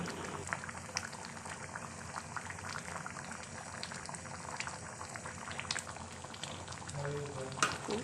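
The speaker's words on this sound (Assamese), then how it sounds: "মই অলপ সময়ৰ কাৰণে আকৌ উতলিব দি লম" A pot of vegetable curry bubbles and simmers steadily on the stove, a soft continuous boil with small popping bursts, fairly quiet and close.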